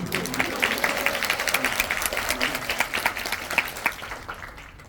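An audience at a film screening Q&A in a Megabox COEX cinema applauds in a thick, steady patter of many hands, with a few voices mixed in, before the clapping thins out at the very end.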